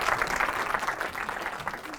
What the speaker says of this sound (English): Again, everybody, big round of applause.